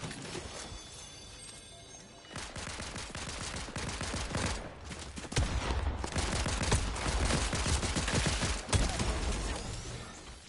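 Rapid bursts of small-weapon gunfire in a video game, loud and dense, building from a quieter opening into sustained volleys after about two seconds, with sharp louder shots near the middle and end and no talk.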